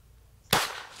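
A single sharp gunshot from a Taurus TX22 pistol fired at a target outdoors, the crack loud and close after a quiet moment, with a short ringing tail behind it.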